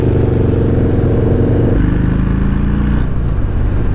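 A Harley-Davidson Low Rider S motorcycle engine runs loud and close, a deep steady rumble that shifts pitch partway through as the throttle changes.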